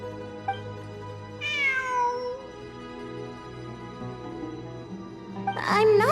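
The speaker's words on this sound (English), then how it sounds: "I'm not hearing things. It really is a cat." A cat meows twice in a video game event quest, a near rising-and-falling call early on and a louder, sharper meow at the end over a low sustained musical backdrop.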